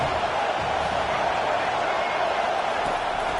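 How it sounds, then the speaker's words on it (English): A football stadium crowd roars for the home defense on a third-down play, a constant, dense wall of cheering with no breaks from start to finish. "Decibels rising as the crowd gets behind this defense on 3rd down"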